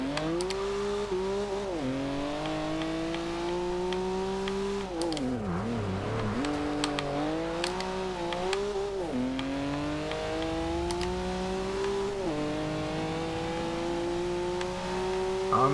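A 2014 BMW M4 in Forza Horizon 2 revs hard through its gears, its engine note climbing steadily and dropping at each shift, loud and continuous with no talk.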